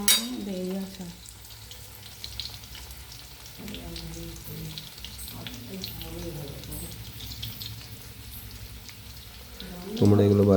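Chicken pakora, browned to a reddish colour, frying in hot oil with a continuous close sizzle and crackle while a person speaks intermittently over it.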